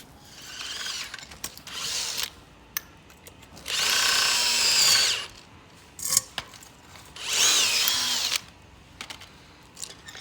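A power drill bores through the rubber of a left control arm bush from a 2007 Honda Civic, whining in two sustained bursts of a second or more, separated by short mechanical clicks and rattles, close and without speech.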